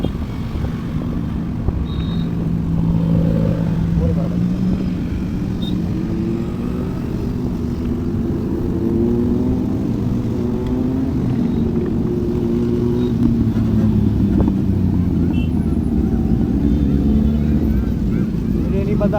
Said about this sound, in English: इतनी 50-60 बाइक्स में से सिर्फ एक की आवाज़ आ रही है, वो है अपनी गौरव भाई की ZX 10R